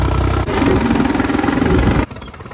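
A tractor engine runs steadily at close range for about two seconds, a loud continuous mid-pitched drone, then cuts down sharply to a quieter rumble near the end; no one speaks.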